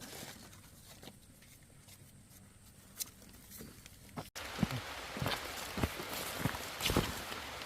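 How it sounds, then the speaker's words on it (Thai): Rain falls outdoors during a heavy shower, starting as faint patter and then growing into louder, denser drops striking nearby surfaces, with a few sharp splashes. "ฝนตกอีกแล้ว"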